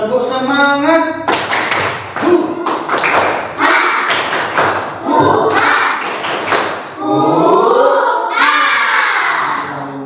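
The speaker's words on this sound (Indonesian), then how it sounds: "Ya, tepuk semangat." Students perform a rhythmic tepuk semangat clapping routine, sharp claps and thumps in patterned bursts mixed with loud group chanting and shouting voices.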